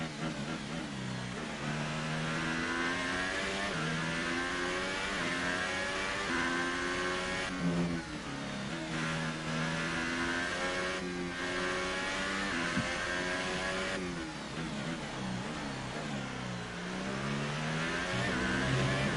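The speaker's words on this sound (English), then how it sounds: "I got a Ferrari coming up on my tail" An F1 2018 Ferrari race car engine screams continuously at high revs, with pitch sweeping up and down through gear changes, loud and steady throughout.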